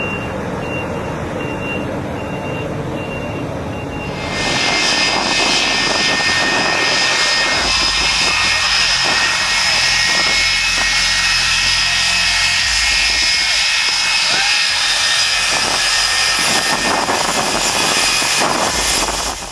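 A jet airplane engine roars loudly and steadily with a high whine during takeoff, the sound surging to full power after a few seconds and holding.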